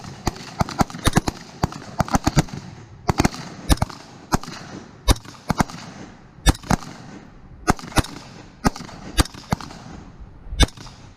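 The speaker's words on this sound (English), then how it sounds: "shoot another 10 rounds into the upper A zone and see what it feels like" A handgun fires about ten rounds at a target on a shooting range, sharp loud cracks spaced roughly a second apart, with a busier burst of shots early on.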